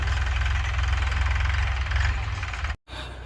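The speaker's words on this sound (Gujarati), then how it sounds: "ટ્રેક્ટર આવી ગયું છે" A tractor engine chugs steadily at close range with a low rhythmic knock, then cuts out briefly near the end before rumbling on.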